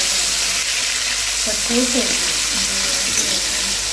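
Potatoes fry in a pan in a home kitchen, producing a loud, even sizzle that continues throughout, with a brief voice in the middle.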